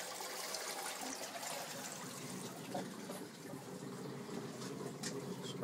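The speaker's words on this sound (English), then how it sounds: "I'll flush the toilet." Toilet flush in a home with water rushing through the pipes, a steady broadband hiss and trickle holding at an even level throughout.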